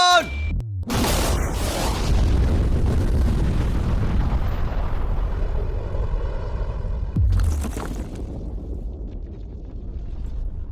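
A large blast destroys a safe, opening with a sharp close boom that rolls into a long roaring rumble and debris noise, with a second thump partway through and wind buffeting the microphone.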